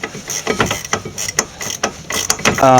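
A ratchet works on 14 mm brake caliper bracket bolts of a 2000 Subaru Impreza, rapid close clicking in uneven bursts of loud mechanical ticks.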